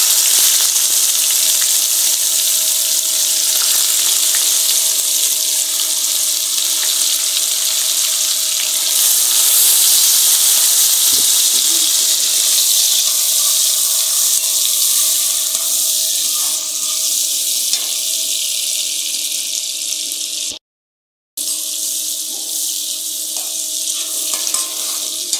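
Onion, green chilli and tomato frying in a pan, giving a loud, continuous hiss and sizzle with faint stirring noises and a brief break near the end.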